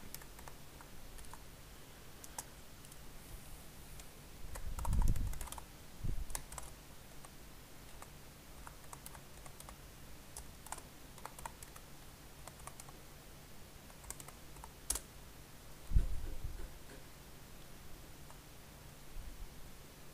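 Keys on a computer keyboard are tapped in scattered, quiet clicks and short bursts over low background hiss, with a couple of heavier thumps and pauses between runs of typing.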